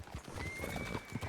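A horse whinnies and its hooves clop in a Western-themed video game, a short neigh over a few soft hoof beats, fairly quiet and close.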